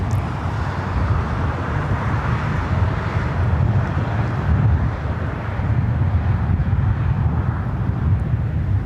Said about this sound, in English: At the same time, we got the A380 here on the north side.